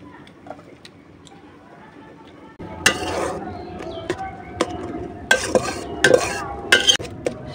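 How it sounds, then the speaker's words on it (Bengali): Spinach from the field fries in a pot on a stove, at first a faint quiet sizzle and then a louder hiss with sharp scraping stirs and clinks against the pot, close and without speech. "সাথে পালং শাক বসাইছি চুলায়, যে ক্ষেতের পালং শাক ভাজি বসাইছি।"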